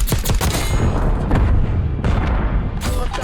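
AK74 rifle fire in a Black Ops 6 multiplayer match, rapid bursts of loud close gunshots with booming impacts running through the whole stretch.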